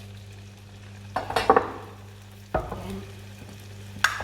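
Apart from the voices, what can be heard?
tofu frying in oil in a pan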